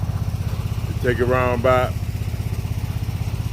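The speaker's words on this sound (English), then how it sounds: "But getting back to the lawnmower, I put the Seafoam in there." A Snapper Pro 48-inch zero-turn lawn mower engine idles steadily with a low, even chugging throb, close and loud, while someone speaks briefly over it.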